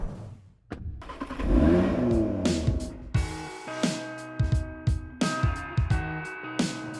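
A Mitsubishi Outlander PHEV drives in South Australia, its engine note rising and settling with a steady mid-pitched hum, joined by intermittent clatter and sharp knocks.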